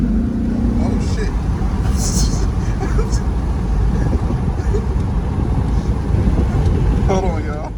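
A tuned 2002 4WD Yukon with a K&N intake, 4.11 gears and 35-inch tires on 20-inch rims, a loud steady low engine roar heard up close from inside the vehicle, with wind rush and brief voices over it.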